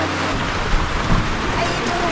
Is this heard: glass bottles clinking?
no